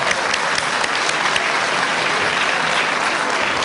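Dense, steady applause from a lecture audience at a popular university public talk fills the room loud and close, continuous for several seconds with no speech over it.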